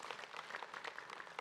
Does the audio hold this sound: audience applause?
yes